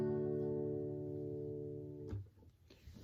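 A single guitar chord rings out and sustains, fading slowly before the strings are muted with a soft scrape and handling noise.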